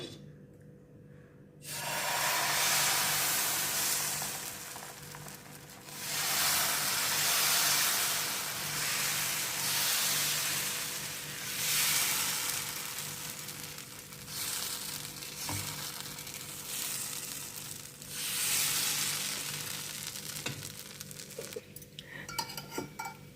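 Raw jackfruit dosa batter sizzling on a hot griddle, a steady loud hiss that swells and eases across the clip with occasional light utensil clinks, no voices.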